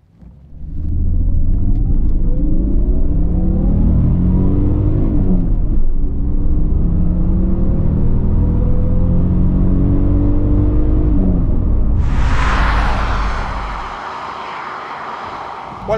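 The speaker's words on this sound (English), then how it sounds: "let's just do a quick pull through the gears" A Toyota Supra Mk2 engine pulling hard through the gears, loud and close, with a steady rising drone, brief dips at each shift, then a sharp high whine before easing off.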